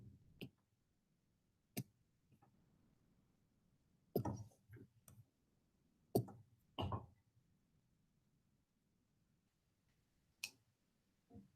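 Faint, sparse keyboard typing: scattered single key clicks and a few quick clusters at irregular intervals, separated by near silence.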